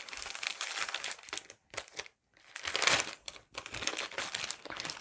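Crinkly plastic packaging being pulled open on a cross-stitch embroidery kit, close and continuous with brief pauses, the rustling and crumpling rising and falling in handfuls, no voices.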